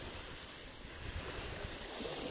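Waves wash steadily on a seashore, a continuous close surf rush mixed with wind noise on the microphone, with no voices.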